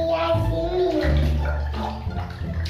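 Water sloshing and splashing as a child swims in a bucket, close and continuous, with a voice and other voices over the splashing.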